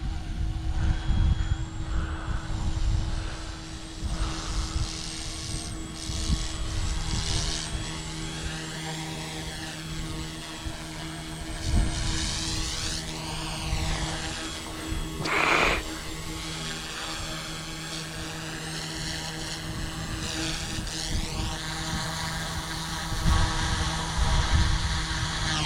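Steady rotor and turbine drone of OH-58 and UH-1D Huey helicopters in a flight simulation, running continuously with shifting pitch sweeps over about twenty-five seconds.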